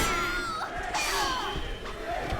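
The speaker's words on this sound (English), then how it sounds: "crowd chant is up again" Crowd at an Evo 2009 Soul Calibur 4 tournament match chanting and cheering, a steady roar of many voices across the whole stretch with rising shouts layered on top.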